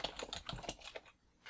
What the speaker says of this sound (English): And you'll notice as I type,